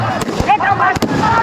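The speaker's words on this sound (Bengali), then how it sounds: "প্রধান অতিথি এসে বিভিন্ন ধরনের বাজি ফুটিয়ে জমকালো আয়োজনের মাধ্যম দিয়েই ফাইনাল খেলাটি উদ্বোধন হলো।" Fireworks go off at the opening of a Victory Day football tournament final, with a few sharp, loud pops and bangs in quick succession under a person talking.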